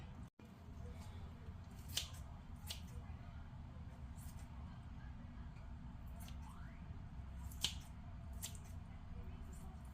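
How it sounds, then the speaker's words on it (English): Scissors snip through meat in a few separate crisp cuts, with soft squishy sounds between them over a quiet low background hum. "I always use scissors when I cut my meat."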